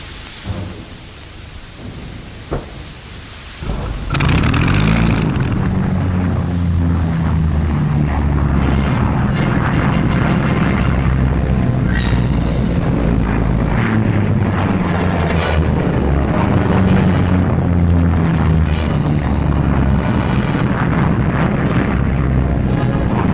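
Fighter aircraft engines roar at a wartime Royal Air Force front-line airbase, a loud, steady, rumbling drone that swells in suddenly after a few quiet seconds and holds without a break.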